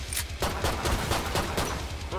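Rapid bursts of gunfire ring out in the Killing Floor 2 video game, a dense volley of sharp repeated shots packed into a couple of seconds, loud and close.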